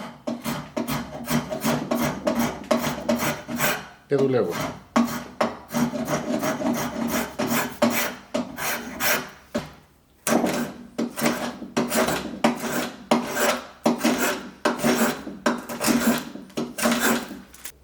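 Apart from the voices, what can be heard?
spokeshave shaving wood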